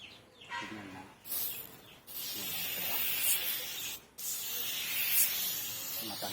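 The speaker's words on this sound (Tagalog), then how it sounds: "So pag-apply nito mga bay, i-spray lang natin." Aerosol spray product applied onto a motorcycle brake, coming as two long close hissing bursts of about two seconds each with a short gap between, after a brief initial spurt.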